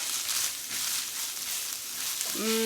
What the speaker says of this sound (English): Now we're gonna go ahead and add in my diced jalapenos. I like to get a little saute on them